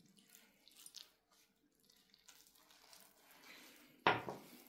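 Warm water pours into dough in a bowl, a brief close splashing gush near the end after quieter scattered handling and clinks, with no voices.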